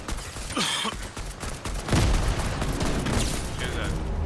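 A bomb blast in the Fortnite battle royale game hits with a loud broadband boom about midway, set among scattered gunfire and game effects while players talk over the action.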